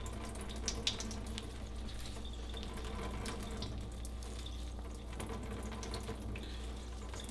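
Water squeezed out of a mass of spirulina through a screen runs in a steady, close, continuous splashing trickle, like a tap pouring into a sink, with no talking.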